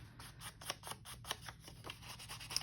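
Scissors snip through paper while a hinged tag journaling card is made, a quiet series of short crisp cuts at an uneven rhythm, close up, with no talking.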